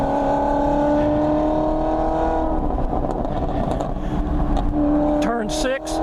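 Race car engine held at full throttle on the VIR circuit, a loud close tonal roar that rises in pitch, eases, then climbs sharply again near the end, with a driver's voice talking over it.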